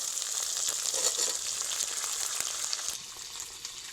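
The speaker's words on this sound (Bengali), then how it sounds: "এইবার টমেটো কুচি দিয়ে দেব" Chopped tomato hitting a frying ginger-garlic masala in a home kitchen, giving a steady, moderately loud hiss and sizzle with faint stirring, alone without talk.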